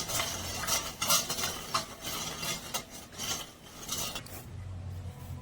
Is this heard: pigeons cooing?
no